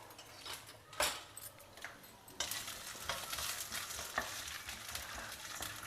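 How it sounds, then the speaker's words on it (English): Urad dal, chana dal, groundnuts and cumin seeds sauté in a pan, a soft crackling sizzle broken by sharp scraping stirs and louder bursts near the start and middle, no talking. "Saute everything till the dals are well roasted"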